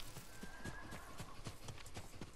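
Horse hooves clip-clop in a steady trotting rhythm close by in the Ghost of Tsushima video game, with a faint whinny drawn across the middle of the passage.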